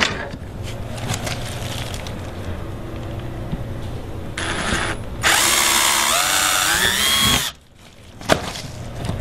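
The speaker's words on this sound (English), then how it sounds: "then I'll go around, drill the other 4 holes and do the same thing" A power drill whirs in two bursts, rising in pitch as it bores holes while installing a Hobie H-Bar mounting bracket, with a quieter mechanical rattle and low hum before it.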